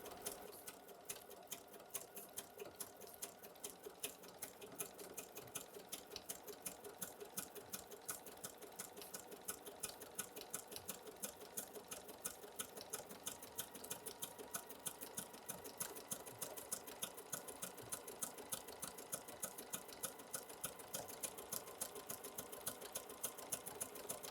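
Sewing machine stitching a fabric watermelon trivet, a steady rapid mechanical whir and needle chatter running evenly at a quick pace throughout, close and alone with no voices.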